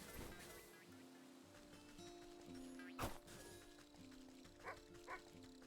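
A dog in the video game Wytchwood gives a few short barks and yips amid soft game music and ambient tones, with one sharp thwack standing out, no talk.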